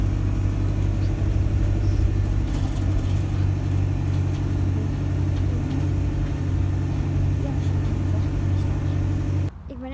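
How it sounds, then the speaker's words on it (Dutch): A city bus pulls up at a stop early in the morning, its engine rumbling loud and steady close by for nearly the whole stretch before cutting off abruptly at the end. "daar komt mijn bus al aan."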